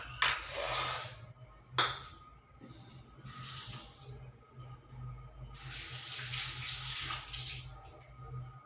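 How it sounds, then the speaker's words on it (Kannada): Water from a tap runs in several separate bursts, each a few seconds long, with quiet gaps between them. It sounds fairly faint and close, with no talking. "ಬ್ಯಾಗ ಎಷ್ಟು ನೀರು ಬರ್ಲಿಕತ್ತಾವ."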